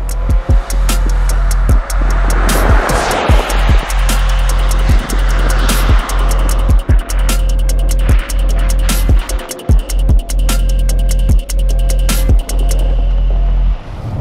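A 2022 Infiniti QX55 SUV with a VC-turbo engine drives on the road, its engine and road noise a steady loud drone throughout, broken by repeated sharp thumps and clicks close to the cabin.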